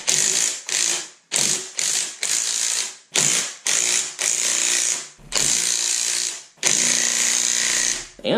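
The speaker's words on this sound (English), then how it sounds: "Now me, I am going to use an impact gun." An impact gun drives spring compressors onto a car suspension coil spring, firing in about a dozen loud, rattling bursts of a second or less, separated by short pauses.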